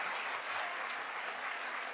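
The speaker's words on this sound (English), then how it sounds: "So please, another applause to all of them" Audience applause at the Erasmus Generation Meeting 2023 opening ceremony, a dense, steady wash of many hands clapping throughout.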